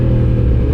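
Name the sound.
MT-10 motorcycle engine while riding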